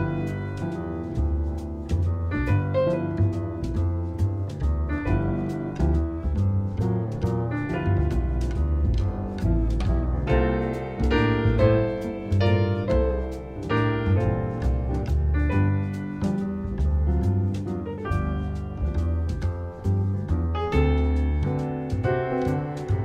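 Solo piano performs a jazz tune in an easy arrangement, a steady flowing stream of chords and melody notes lasting over twenty seconds, moderately loud with no speaking.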